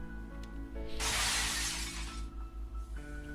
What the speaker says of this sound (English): Shattered Glass broke in the prison.